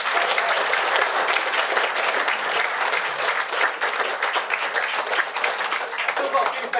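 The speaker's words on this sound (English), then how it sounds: "I'd like to do a round of applause for Nanny." Wedding guests break into sustained applause at the reception, a dense, steady wash of many hands clapping together with a few voices faintly mixed in.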